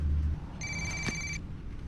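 A short electronic telephone ring, one bright trilling burst lasting under a second over faint room noise, close by.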